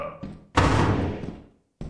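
An in-game door in Lethal Company swings open and shuts again, giving a close, heavy thudding knock followed by a short rumbling slam, with brief bits of background sound before and after.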